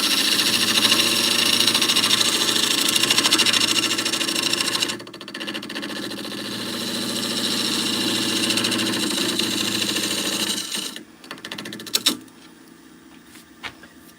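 A spindle gouge cuts a wooden bowl spinning on a lathe, producing a steady droning motor hum with a hissing cut that dips partway, resumes, then stops, leaving faint scattered knocks.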